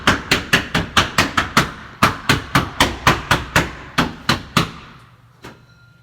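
Glass tiles are tapped into place on a wall: about fifteen sharp, loud, close taps fall in a quick even rhythm with one brief pause, then a last faint knock follows after a gap.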